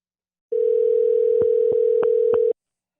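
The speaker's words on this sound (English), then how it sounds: "So let's see if we can get Mikey on the phone here" A telephone dial tone hums steadily for about two seconds while a call is being placed, broken by a few short clicks before it cuts off abruptly.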